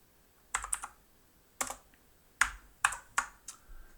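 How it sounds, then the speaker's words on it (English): Keystrokes on a computer keyboard as a field name is typed into an analytics dashboard: sparse, close, crisp clicks in small clusters with gaps, and no voices. "we're going to type meeting"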